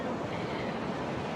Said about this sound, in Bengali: আর এই যে সমুদ্র।